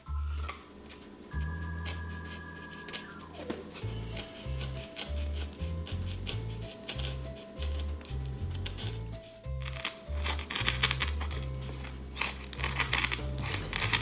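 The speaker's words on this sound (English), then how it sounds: "I'm going to cut it out, and I think to do that I'm going to use an X-Acto knife" An X-Acto knife cuts a traced circle out of paper with repeated short scraping and crinkling strokes, close by, over steady background music.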